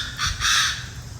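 Birds in a large mixed-species aviary at Huai Sai Zoo in Phetchaburi, Thailand, give two loud harsh crow-like caws close by, the second longer, over a low background rumble.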